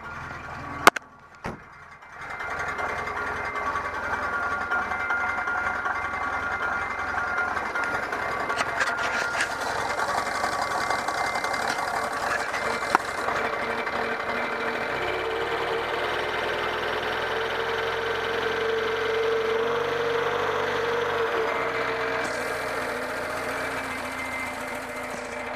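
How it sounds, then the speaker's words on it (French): A Citroën BX 16 TZS automatic's engine, freshly fitted with a new timing belt, is started with a couple of sharp clicks and then runs with a steady mechanical whir and clatter close by. The idle shifts slightly partway through, and no one speaks. "Je pense que c'est le bon moment pour essayer le moteur."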